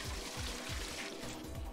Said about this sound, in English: Hope you like this water sound effect.